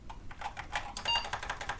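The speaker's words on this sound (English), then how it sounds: "as you can see, we are typing in 80 column mode" Rapid keystrokes clatter on an old Apple II+ computer keyboard, a quick uneven run of crisp mechanical clicks close up with no talking.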